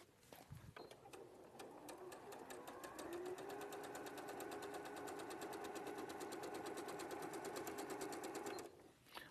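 A sewing machine stitches in a fast, even mechanical rattle that starts after a brief bump, runs steadily for several seconds and then stops, quiet and close with no talking.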